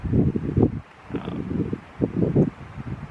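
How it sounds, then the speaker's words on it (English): Gusts of wind buffet the microphone in low rumbling bursts, coming and going in uneven waves with short lulls between. "A little windy, hopefully that doesn't affect the sound quality too bad."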